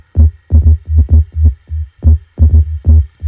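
Sub bass synth played alone in a rhythmic pattern of short, heavy low notes, about a dozen pulses with brief gaps, loud and deep with a faint upper edge.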